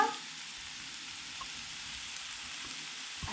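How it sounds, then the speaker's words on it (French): Chanterelle mushrooms sauté in a very hot pan, giving a soft, continuous sizzle and crackle at low level after a brief louder clatter at the start; no one speaks. "On va les faire revenir."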